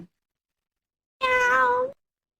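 A house cat gives a single clear, drawn-out meow lasting under a second, close and alone after a brief silence.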